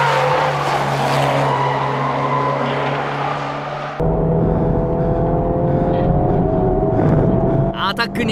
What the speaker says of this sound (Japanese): 最終コーナーもものすごいブレーキングで突っ込む。